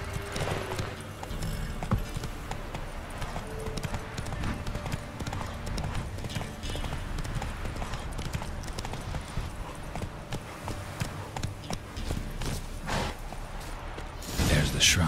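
Horse hooves in The Witcher 3 pound in a steady galloping clip-clop for the whole stretch, with faint background game ambience and a brief voice at times.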